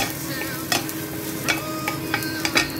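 Garlic sautéing in a pan for a zucchini and black fungus stir-fry, a soft steady sizzle with several sharp scraping stirs of a utensil against the pan.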